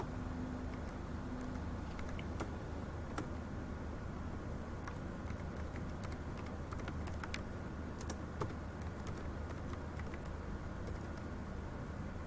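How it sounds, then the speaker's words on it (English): Faint, scattered clicks of a computer keyboard being typed on over a steady background hiss, with irregular keystrokes spread throughout and no talking. "Now I'll be typing the name of the person, the qualifications, affiliation,"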